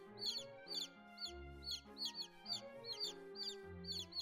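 Cartoonish clucking chickens wearing top hats in the video game Fear The Spotlight: a rhythmic run of repeated bright clucks over a low, looping musical backdrop, steady and close with no speech.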